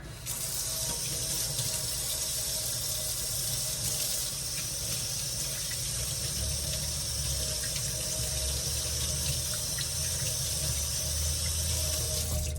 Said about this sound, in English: now let me wash my hands again